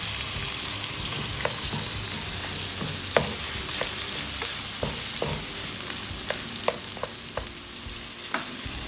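Garlic and onion sauté in a hot pan for mung bean stew, giving a steady, close frying sizzle broken by scattered sharp clicks and scrapes of stirring.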